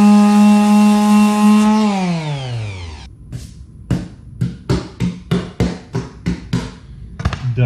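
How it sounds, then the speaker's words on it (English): A hand sander fitted with 150 grit sandpaper works on wood: its motor whine winds down and drops in pitch, followed by a run of rhythmic scraping strokes, close and loud. "Next, I got my hand sander and just got a 150 there."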